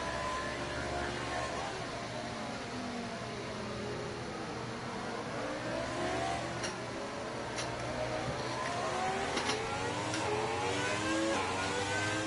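Racing cars circling the historic Monaco street circuit in a video game, a steady mid-pitched engine drone with several cars' revs rising and falling and overlapping throughout, continuous and moderately loud.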